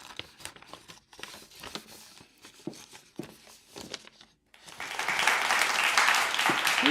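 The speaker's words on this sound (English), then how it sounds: "Hey, thank you for the claps." Applause from a livestream audience, played back as a clapping sound effect. Scattered sparse taps come first, then a denser burst of clapping swells near the end.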